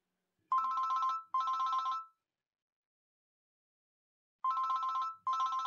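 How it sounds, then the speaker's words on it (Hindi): Phone ringtone in a Pakistani TV drama, two rings in quick succession, a pause, then two more, clear and fairly loud with silence between. "पापा अगर आपको अटेंड नहीं करना तो आप स्विच ऑफ कर दें फोन।"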